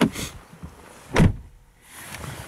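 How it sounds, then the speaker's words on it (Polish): A single solid thump of the front door of a 2016 Mercedes-Benz S350 4Matic W222 shutting near the middle, with a short low rumble and quiet background hiss around it. "Posłuchajmy zamknięcia drzwi."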